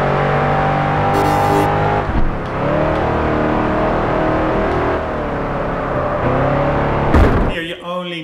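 Race car engine in Project Gotham Racing 4 roaring at sustained high revs, pitch dipping and climbing with gear changes and braking, loud and continuous with a brief higher whine near the start and a sharp shift near the end.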